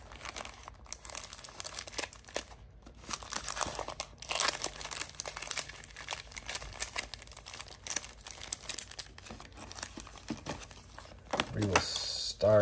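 Marvel trading card packs (Marvel Annual and Civil War) being torn open, with continuous foil crinkling, crunching and ripping at close range, loud and busy, with a voice speaking at times over it.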